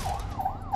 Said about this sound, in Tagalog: Maririnig din ang sirena ng ambulansya.